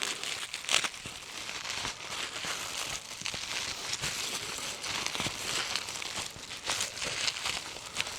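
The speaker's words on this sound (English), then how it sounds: "we're going to go ahead and unbox this, which I already unboxed it though, but I wanted to unwrap it for you guys" Packaging around a C3 Electronics 9:1 balun is unwrapped, giving close, fairly quiet crinkling and rustling with small crackles and tears running steadily throughout.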